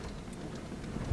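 Steady rain falls during a tornado storm near Braman, Oklahoma, a soft, even hiss with scattered drops and faint rumbles, fairly quiet and distant, no voices.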